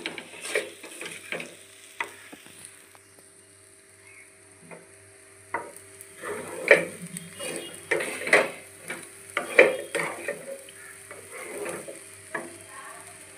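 Soaked rice and crushed peanuts being stirred and roasted in a pan, with repeated scraping strokes of a spoon against the pan over a faint dry sizzle, irregular and close.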